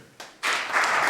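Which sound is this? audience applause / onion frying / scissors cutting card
audience applause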